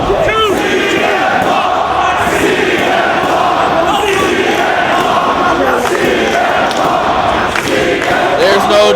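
A wrestling crowd at an ROH Third Anniversary Celebration show roars and chants loudly and continuously, a dense wall of cheering with shouted calls rising over it.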